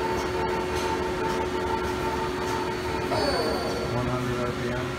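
A 2006 Mazak QT 40 CNC lathe spindle turning at 500 RPM gives a steady mechanical hum with sustained tonal whine, running continuously at moderate level with faint machine-shop rumble.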